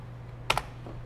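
Two quick keystrokes on a computer keyboard, close and crisp, in an otherwise quiet room with a low steady hum.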